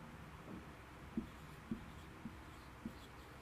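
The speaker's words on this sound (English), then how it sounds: "So, let's write it down here." Pen writing notes on paper, heard as faint, close scratching with a few soft taps spaced roughly half a second apart against a quiet background.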